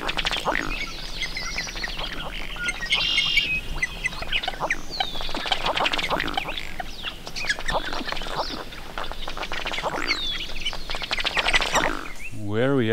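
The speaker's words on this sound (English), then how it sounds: "With a lot of these ducks which have blue bills and we're going to identify later." Blue-billed ducks near Winthrop in Washington's Methow Valley, quacking and squawking steadily with chirping birds mixed in, a busy, close chorus filling the whole stretch.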